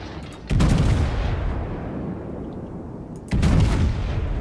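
Warship guns firing in a naval battle video game: two heavy, booming salvos a few seconds apart, each a loud low blast with a long rumbling decay over steady background noise.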